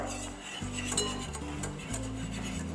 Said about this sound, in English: Whisk and whisk and whisk.